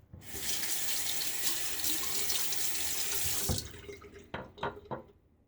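Running tap water pours steadily over a safety razor, a Franken Fatip Old Type fitted with a Feather blade, for about three and a half seconds. Then the flow cuts off, leaving a few close drips and light clinks.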